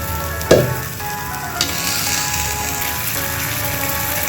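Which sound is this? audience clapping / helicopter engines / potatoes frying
potatoes frying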